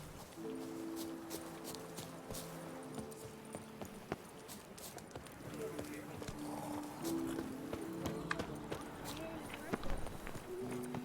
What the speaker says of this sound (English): I thought that was a horse from the distance.